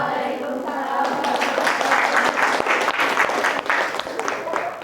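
A classroom audience applauds after a student group presentation, with dense, steady clapping from many hands filling the whole stretch at a fairly loud, even level.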